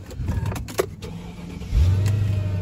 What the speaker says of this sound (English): Turn the vehicle on.